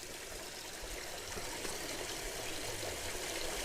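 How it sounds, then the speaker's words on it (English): Water flows out of a pond filter pipe, a constant broadband rush and trickle, soft and fairly steady throughout with no voices. "why is there water coming out of that one?"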